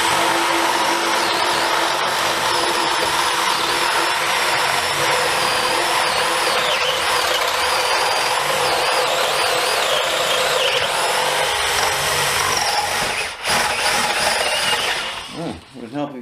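DeWalt DCD701 brushless 12V drill driver boring with a sharp bit, a steady loud whine and grinding held for about thirteen seconds before a brief dip and trailing off near the end.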